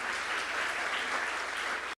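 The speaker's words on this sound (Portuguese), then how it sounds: "Aplauda ao Senhor" A congregation in church applauds at the close of a worship service, a full, sustained wash of clapping that stays loud and steady before cutting off abruptly near the end.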